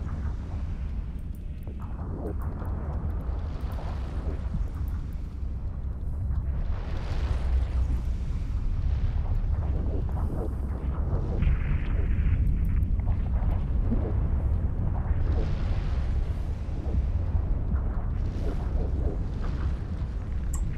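Weapons fire and explosions from a space fleet battle in the video game Eve Online, Munnin ships against Legions, form a dense, continuous roar of booms and bursts that holds steady throughout with no pauses.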